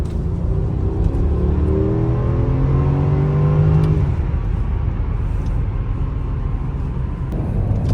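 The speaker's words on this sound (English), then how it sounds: "So now I'm just gonna do a quick acceleration run." Mercedes-Benz E550 accelerating hard, a loud, rising engine roar with climbing pitch through the first half, then a steady whooshing cruise of wind and road noise, with no talk.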